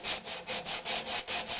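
Sandpaper rubbing back and forth along the grain of a natural-edged oak bowl, a steady run of about seven close, raspy strokes with no talking.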